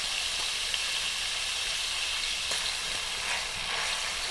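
Spinach and radish hitting hot oil in a pan for a curry, giving a steady, fairly quiet hiss and sizzle with no talking.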